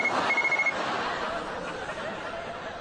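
A telephone rings in an indoor domestic scene, a short electronic ring heard alone and fairly loud before the call is answered.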